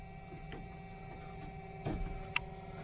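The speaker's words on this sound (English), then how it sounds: "I don't think this blower motor worked, did it? Yeah, you can hear it." Heater blower motor of a 1978 Chevy Nova stuck on low, a faint steady hum with soft ticking and one brief clunk near the end.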